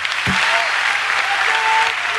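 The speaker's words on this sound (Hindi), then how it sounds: "पंडित जी को जोरदार ताली बजाई जाए" An audience claps loudly and continuously for a pandit at a public gathering, a thick sustained roar of applause with one sharp thump near the start.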